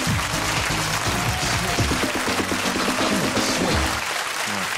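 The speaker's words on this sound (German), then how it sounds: "Bitte begrüßen Sie mit einem tosenden Applaus" Audience applause greets a performer on a German stage show as he steps up with a rare Omnichord. It is a steady, dense wash of clapping for about five seconds with low murmuring underneath.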